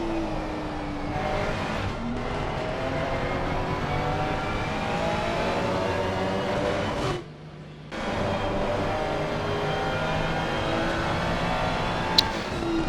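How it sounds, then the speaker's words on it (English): Ferrari race car engine in a racing video game at Barcelona-Catalunya, loud and continuous with rising and falling revs, a brief dip near the middle, no talk. "Definitely have some nice engine sounds here."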